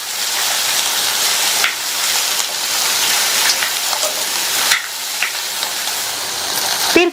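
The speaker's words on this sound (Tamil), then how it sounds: "இந்த காய் இந்த எண்ணெயிலேயே நல்லா வதங்கணும்." Chopped ridge gourd sautéing in oil in a pan, giving a steady, close hiss of sizzling with a few faint stirring knocks.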